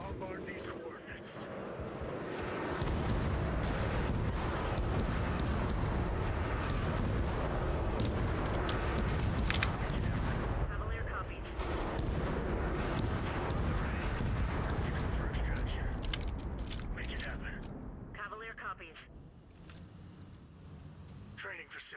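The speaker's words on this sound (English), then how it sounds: "Bombard these coordinates." Artillery bombardment in a real-time strategy game, a sustained roar of heavy rumbling blasts lasting close to twenty seconds, loud and dense before tapering off, with game voice lines over it.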